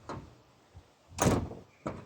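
A replacement door on a Vauxhall Movano van, fitted after its hinges dropped, swings shut and catches with a solid thud, framed by two shorter knocks before and after, close by with no talking.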